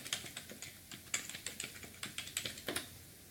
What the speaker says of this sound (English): I always just type in ecampus.blinn.edu.